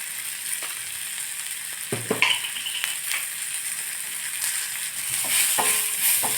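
Small onions sauté with salt in a pan, giving a steady close sizzle with occasional stirring scrapes and light clinks of a utensil against the metal.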